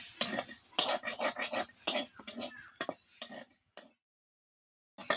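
Brinjal pieces and neem leaves stirred in a pan with a spoon, giving close, irregular scraping and clinking bursts in a quick rhythm, followed by a pause and one more short scrape.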